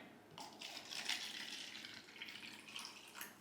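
Water poured into a cup splashes and trickles in short bursts, a light pouring sound that comes and goes, quiet and close.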